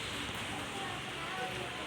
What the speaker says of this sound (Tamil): மழை சாரல் கொட்டிகிட்ருக்கு, மழை பெஞ்சிகிட்ருக்கு